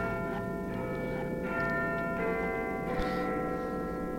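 Chime in the video game Cargo! The Quest for Gravity, a couple of soft bell-like tones ringing over a steady bed of game music and ambience, no talk.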